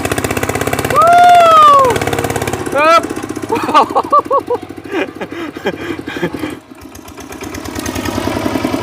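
A tractor engine chugs with a steady, throbbing idle, close by and fairly loud, while someone talks over it.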